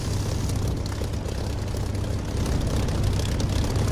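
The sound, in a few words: jet aircraft flying in the DCS flight simulator video game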